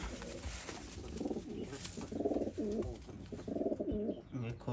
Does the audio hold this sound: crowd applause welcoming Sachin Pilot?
no